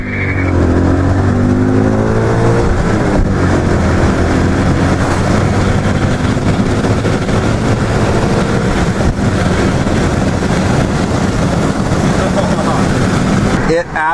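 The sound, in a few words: BMW M5 accelerating hard in 0 to 60 test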